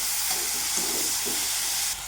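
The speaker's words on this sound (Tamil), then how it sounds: "தக்காளியும் நல்லா வதங்கணும்." Tomatoes sizzle steadily in a hot pan while vendakkai rice is cooked at home, a continuous frying hiss with faint stirring, close and even, no voices.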